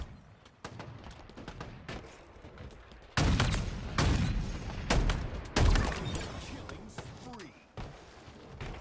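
Rapid bursts of gunfire in the video game Halo Infinite at an HCS Charlotte Major watch party, loud sharp volleys clustered mid-clip over game noise, with people talking throughout.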